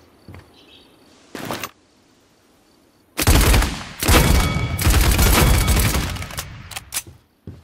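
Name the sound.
gunfire aiming down iron sights in a video game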